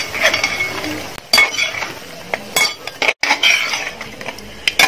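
Chicken pieces being stirred into masala in a pan for restaurant-style Chicken 65, with repeated clinks and scrapes of a utensil against metal in close, irregular bursts, no talking.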